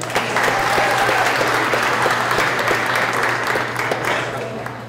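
A graduation crowd at a January ceremony claps and cheers in a sustained, even wash of applause with scattered whoops, and a steady low hum sits underneath.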